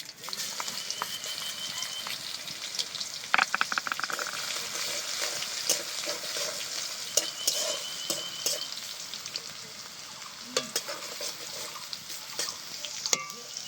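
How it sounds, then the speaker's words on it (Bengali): Crushed garlic hits hot mustard oil with whole spices in a wok, a loud sizzle that settles into steady frying, punctuated by sharp spatula scrapes and stirring clatter. "দিয়ে দিচ্ছি থেতো করে রাখা রসুন।"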